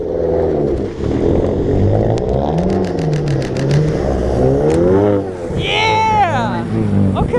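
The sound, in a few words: car engine revving at a winter car meet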